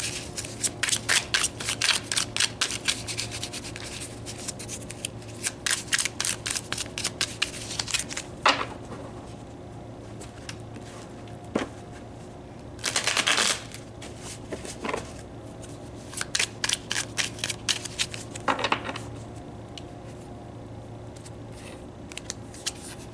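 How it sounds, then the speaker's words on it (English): Tarot cards are shuffled by hand in repeated bursts of quick riffling flutter, close and fairly quiet, separated by short pauses and soft handling noises. "let's pull some more cards, some tarot cards, and dig a little deeper"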